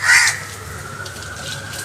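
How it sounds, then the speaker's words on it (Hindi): A crow caws loudly and close by in the morning, giving one harsh call at the start that gives way to quieter ambient sound and faint distant bird noise. "कौवे चिल्ला रहे हैं, सुबह हो रही है"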